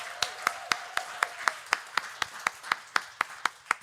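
Slow, evenly spaced hand claps, about fifteen in under four seconds, from a small group at a live podcast recording in a Hard Rock Cafe, fairly quiet and rhythmic rather than a full applause wash.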